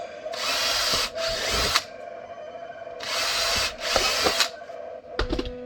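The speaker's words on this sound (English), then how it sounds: "So let's go ahead and drill." A power drill whines in four sustained bursts, two pairs separated by a pause, then a few brief clicks and short spins at the end, drilling holes for a Glock 19 holster.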